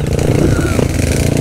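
A group of trail motorcycles rides nearby, roughly fifteen to twenty dirt bikes, their engines rumbling loud and continuous, with brief speech mixed in.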